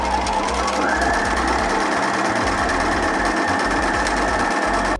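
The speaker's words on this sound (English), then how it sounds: "I'm going to do a reverse stitch just to secure it" A sewing machine runs loud and close while sewing a reverse stitch, a continuous rapid mechanical whir and clatter with a shift in pitch early on, no voices.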